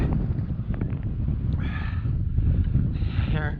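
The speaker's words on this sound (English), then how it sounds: "That wind is whipping out there." Strong, frigid wind buffets an ice fishing spot, a loud continuous rumbling roar with gusty swells and brief faint squeaks mixed in.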